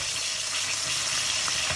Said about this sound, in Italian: olio extravergine di oliva in padella. Mettiamo 3 spicchietti d'aglio e li facciamo rosolare leggermente.